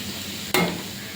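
Onions and coconut frying in a pan give a steady, close sizzle, broken by one quick scrape of a stirring spoon midway.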